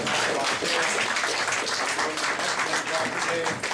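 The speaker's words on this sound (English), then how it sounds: "we'd like to give an ovation to our presenters" Sustained audience applause for presenters at an academic talk on the performance art of insults, a dense, steady wash of many hands clapping close by, with some voices mixed in.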